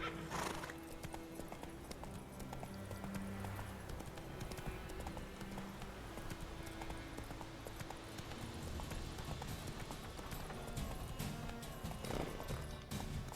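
In The Witcher 3 video game, a horse gallops with a rapid, continuous clip-clop of hooves and lets out a whinny. The sound is steady and mid-loud under a faint game ambience, with no talking.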